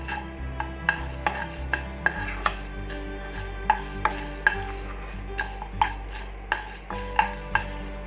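Cardamom and black pepper dry roast in a pan, with a quiet, regular tick and scrape of a spoon stirring the spices roughly every half second over a low hum.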